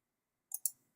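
A mouse clicked with the Option key held during photo editing on a computer: two quick, light, close clicks in rapid succession, isolated in silence.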